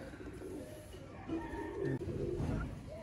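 Low, rolling coos from Teddy-breed pigeons swell and fade over steady background noise, close and moderately loud.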